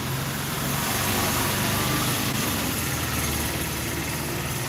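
A car engine runs steadily outdoors in a broad, continuous rumble with hiss, holding fairly loud and even as the car moves away.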